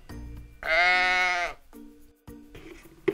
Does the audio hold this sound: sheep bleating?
yes